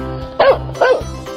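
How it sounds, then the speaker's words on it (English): A cartoon dog barks twice in quick succession, loud and close, over a low steady background hum, with no one speaking. "Dog."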